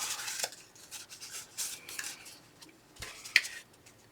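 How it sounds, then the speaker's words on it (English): Scissors cut through paper for a handmade junk journal tag booklet, giving quiet, scattered rasping snips and short brushing strokes, with one sharper click near the end and no talking. "I need to get my scissors and cut this a little bit."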